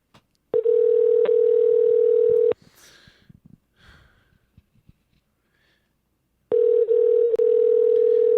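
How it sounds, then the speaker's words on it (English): A telephone dial tone sounds loudly for about two seconds, breaks off into quiet breathing and small handling noises, then returns as a second steady tone while a call is placed. "To try and call her back."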